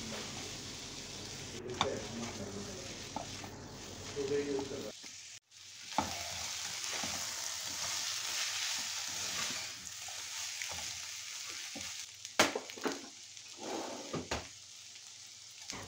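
Pumpkin and beans fry in a pan for a kalabasa chicken dish, giving a steady sizzle with scraping stirs in the first seconds. A short pause follows, then the frying sizzle resumes with occasional sharp utensil clinks.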